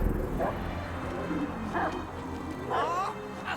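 Cosmo the dog from the video game Marvel's Guardians of the Galaxy gives a few short barks and whimpers over steady game background sound, with speech around them.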